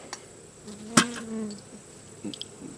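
Agitated honey bees buzz close by in an opened beehive during a frame inspection. A brief loud buzzing pass is accompanied by a sharp handling knock, then fainter, scattered buzzing continues.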